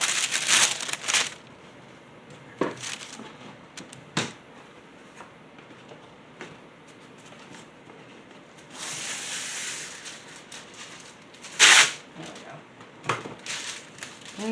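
Wax paper crinkles and crumples in a kitchen while preparing keto cinnamon rolls, coming in a few short bursts near the start and again later, with quieter handling rustle in between.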